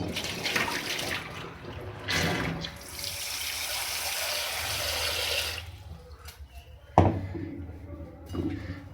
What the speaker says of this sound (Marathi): सो आता मी 2 पाण्याने छान मस्त धुवून घेतले